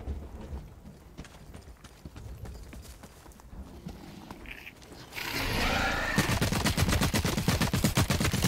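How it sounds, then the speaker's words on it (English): Gunfire in the video game The Cycle: Frontier, a dense run of rapid loud shots in the second half after quieter rhythmic footsteps and faint distant shots. "I still hear him shoot."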